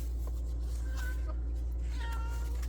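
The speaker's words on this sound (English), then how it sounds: "That's my cat." A cat meows a couple of times, faint and high, over a constant low hum.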